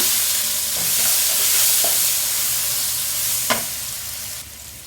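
Sambar masala drops into a hot oil tempering in a home kitchen and sizzles with a steady bright frying hiss, followed by a few stirring clinks.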